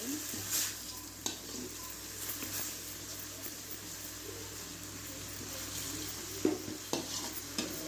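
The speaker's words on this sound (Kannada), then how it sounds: "ಇದು ಸೊಪ್ಪು ಎಣ್ಣೆಯಲ್ಲಿ ಬೇಯಬೇಕು ಸ್ವಲ್ಪ." Kasi greens cook in hot oil in a pan, giving a steady soft sizzle broken by scraping stirs and light clinks of a utensil against the pan.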